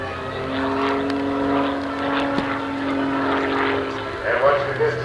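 An aerobatic airplane performing a sideways sliding maneuver at the 1989 Oshkosh airshow, its propeller engine droning steadily with a rising and falling tone, heard under an announcer's voice.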